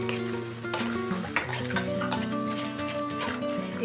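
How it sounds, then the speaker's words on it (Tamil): Dried red chilies, grated coconut and whole spices dry roast in a pan, giving a close, continuous crackling sizzle with repeated stirring scrapes and no voices. "எல்லாத்தையும் நல்லா ட்ரை ரோஸ்ட் பண்ணிக்கணும்."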